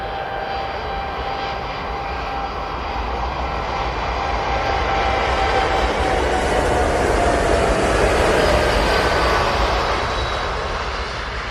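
TUI airliner taking off from Manchester Airport for Tenerife South, a loud sustained jet engine roar with a whining tone that swells toward the middle, heard alone without speech.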